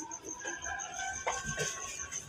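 Roosters crowing and clucking at dawn on a family homestead in Pakistan, a few drawn-out calls and short clucks at moderate distance over a steady background hum, with no speech.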